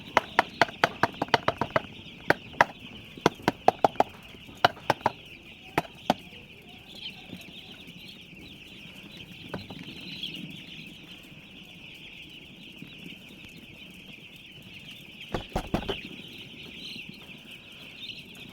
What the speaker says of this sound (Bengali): এখানে একটু মুরগি ঝাপ খাইয়ে থাকতেছে।